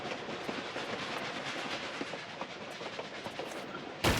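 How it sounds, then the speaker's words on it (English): Continuous rumbling train noise with rhythmic clickety-clack from the Tomb Raider 4 video game, a steady mid-loud rolling drone that cuts off sharply at the end. "When you die, the train sound stops."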